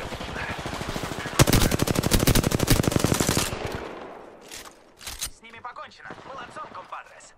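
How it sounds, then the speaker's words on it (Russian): Automatic weapon fire in the video game Apex Legends rattles in a loud, rapid burst lasting a couple of seconds, followed by a few scattered single shots and quieter game sounds, with a voice speaking intermittently. "Открываю огонь по подопытным."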